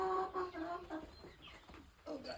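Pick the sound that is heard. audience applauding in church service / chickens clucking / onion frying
chickens clucking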